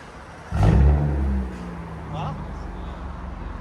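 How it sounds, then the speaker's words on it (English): A 2019 Toyota Avalon with a 3.5-liter V6 and straight pipes lets out one loud, short rev that settles into a rumbling idle, followed by a faint second blip, with people talking nearby. "Did you guys ever expect an Avalon to sound like this?"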